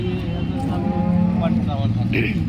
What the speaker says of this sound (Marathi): आणि ही लाखाची गाय.